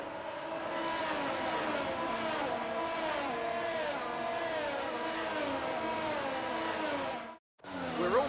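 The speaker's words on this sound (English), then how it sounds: "The formation lap gets underway and every driver will be looking to settle in for the race ahead, making sure that their car is ready for the battle" F1 race cars on the formation lap in the F1 22 video game give off a continuous high engine whine with shifting pitches as several cars pass. It cuts briefly to silence near the end and then resumes.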